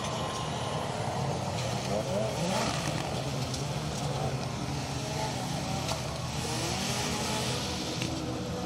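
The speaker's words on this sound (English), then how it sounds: "Got the cars now arriving back in service." Rally cars at the Donington Rally 2023 pull back into the service area, a steady engine drone with occasional revving, vehicles passing at moderate distance amid broad ambient noise and background voices.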